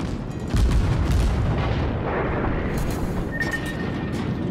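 Heavy naval guns booming in a warship battle game during a duel, a loud blast with a long rumbling roar that carries on, followed later by a brief high whistle.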